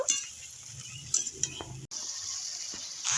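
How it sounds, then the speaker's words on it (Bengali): Spice masala stirred into bhetki fish bones in a pan, with a faint, steady sizzle and a few soft scrapes and clinks of the spoon against the pan. "এবার আমি একটু মিশিয়ে নেব।"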